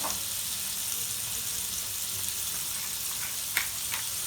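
Meat frying in a pan, seasoned with salt for a meat and cheese omelet, giving a dense, continuous close sizzle with a single brief clink near the end.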